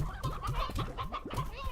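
Stony hens in the farming game Slime Rancher cluck repeatedly in quick, overlapping bursts, close by and fairly loud, with no talking.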